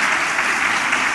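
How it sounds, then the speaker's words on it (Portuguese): A church congregation applauds during a worship service, a continuous wash of many hands clapping together, steady and fairly loud with no voices on top. "Vamos aplaudir bastante e dar glória a Deus enquanto nós aplaudimos."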